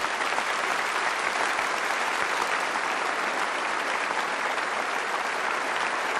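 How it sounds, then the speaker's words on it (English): Sustained applause from the audience at the Miss World 1978 beauty contest, a dense and even wash of clapping heard alone that stays loud and steady throughout. "I think that deserves a round of applause."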